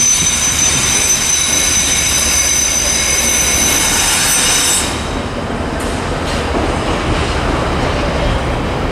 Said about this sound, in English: Okay, coming across over here, we've got a Colas Class 70.